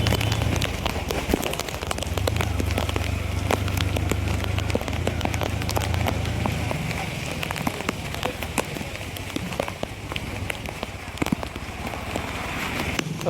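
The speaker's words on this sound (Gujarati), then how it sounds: "ચાલુ વરસાદે વી આવ્યા છીએ. જો વરસાદ છે ચાલુ." Continuous rain falls hard and steadily, a dense, even patter with sharp individual drops cracking through, close by and unbroken from start to finish.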